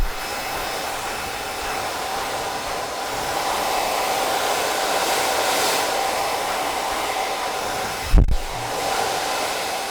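A hair dryer blows continuously on high heat and high speed, a loud steady whooshing roar close by, with a single sharp knock or bump near the end.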